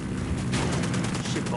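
Gunfire in Ghost Recon Wildlands, a rapid run of shots forming a dense, loud barrage that holds steady across the whole short stretch, with busy game noise underneath.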